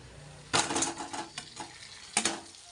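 A whole uncut potato goes into a frying pan of mustard seeds, curry leaves and green chilli, setting off a sharp sizzle and clattering scrapes, then a few softer knocks and a second burst of sizzling, with no talking.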